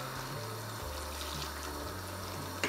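Pasta cooking water ladled into a pan of simple tomato sauce, a steady running-water rush with low bubbling, close and continuous, alone with no voices.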